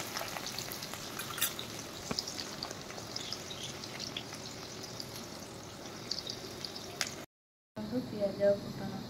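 For a fish curry, frying in hot oil gives a fine, fairly quiet crackle with scattered pops and clicks, broken by a brief dropout near the end, and some louder handling noise follows.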